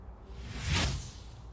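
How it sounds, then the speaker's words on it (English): Single whoosh transition sound effect, a smooth swish that rises to a peak near the middle and fades away, heard alone against a quiet background. "Got a whoosh, whoosh."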